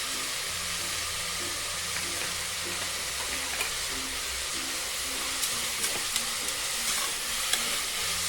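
Onions frying and being stirred in a pan for chicken biryani, a steady low sizzle with faint scraping stir strokes running throughout, fairly quiet and without talk.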